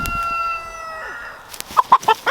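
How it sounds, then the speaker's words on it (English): Young chickens around five to six weeks old give a string of short, close clucks and chirps after a long, steady, tonal cry, heard alone with no voices. "So we've got some little chickens here."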